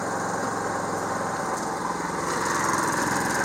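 Generac generator running in economy mode, a steady close buzzing engine hum with a fine rapid vibration, continuous and moderately loud with no talk.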